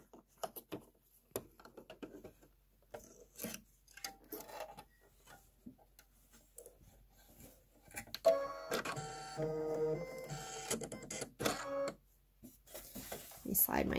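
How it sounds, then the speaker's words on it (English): An embroidery machine sews a placement stitch in white thread for the tip of a rocket design in a hoop, a steady mechanical stitching rhythm emerging loudly after a stretch of quieter handling and talk. "It's going to do a placement stitch for the tip of the rocket."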